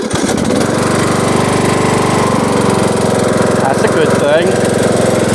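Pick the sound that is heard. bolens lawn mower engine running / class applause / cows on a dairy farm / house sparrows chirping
bolens lawn mower engine running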